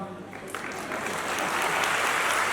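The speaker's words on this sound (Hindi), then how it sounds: "बहुत बहुत शुक्रिया आपके 10-12 तालियों का" An indoor audience at a memory championship event in Mumbai claps steadily, a dense spread of applause that grows slightly louder toward the end.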